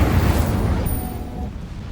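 Incendio fire spell cast in the Hogwarts Legacy video game, a loud rumbling whoosh of flame that starts strong and slowly fades over two seconds.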